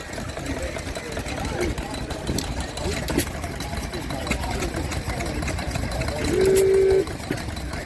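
A vintage stationary engine runs at a country rally, chugging in a steady rhythmic idle close by, with a brief tonal whine near the end and people talking in the background.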